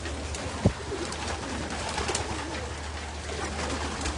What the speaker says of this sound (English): just want to show everybody the birds before we get them loaded up.